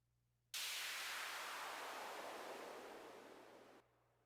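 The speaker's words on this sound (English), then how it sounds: "So the white noise is like a downshifter or I guess you just call it white noise riser," Reversed white noise riser used as an electronic effect in a smooth jazz cue: a loud, hissing broadband swell that starts abruptly, holds for about three seconds while slowly changing, then cuts off sharply, with a faint low hum beneath.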